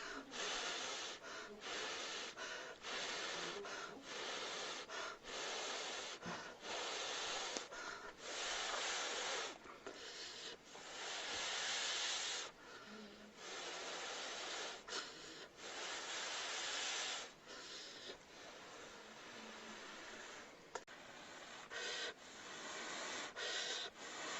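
Someone blows into smouldering tinder from flint-and-steel sparks nested in a bundle of dry grass. The breaths come as many close, forceful, breathy puffs in irregular bursts, some short and some long.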